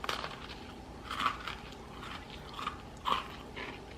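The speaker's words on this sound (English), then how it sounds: "they're more crunchy than soft, but I wanted them soft" Crunchy baked cookies, overbaked and hard, being bitten and chewed, with a few sharp close crunches spaced a second or two apart over a quiet background.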